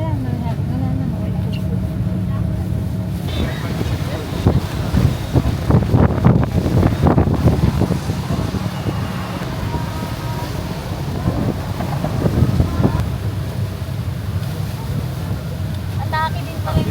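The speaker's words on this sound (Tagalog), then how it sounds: "Sobrang lakas ng hangin." Strong wind buffets the microphone on a city bus tour in Ho Chi Minh City, a constant low rumble with gusty surges, alongside traffic noise and people talking.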